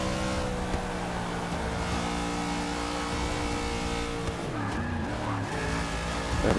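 A race car in a NASCAR video game at Homestead-Miami roars steadily, its engine drone joined by squealing tire skids as it swerves, loud and continuous throughout.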